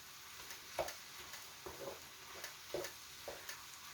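Squid and fish cake stir-fried as a Korean side dish, soft spatula scrapes and light tosses every half second or so over a faint, quiet sizzle, with no talk.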